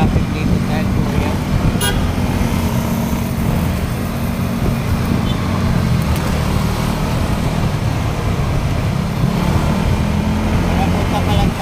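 Road traffic in Manila heading toward Makati, with steady car engine rumble and a car horn tooting repeatedly through the scene, while people talk over the noise inside a vehicle.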